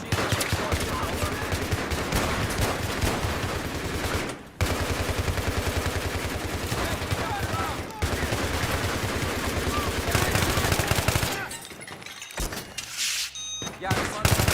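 Machine gun fire rattles in Battlefield 3, dense continuous bursts of close, loud gunfire with brief gaps, breaking up into scattered shots and thuds toward the end.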